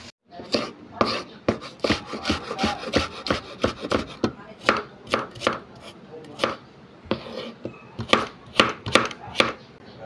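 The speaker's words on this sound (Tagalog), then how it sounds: "hiwain na natin tong pasahog natin ano, labahita" A knife slices labahita fish on a cutting board for a taro-tendril adobo, giving loud, close, regular chopping strikes that repeat steadily with brief pauses and no talk.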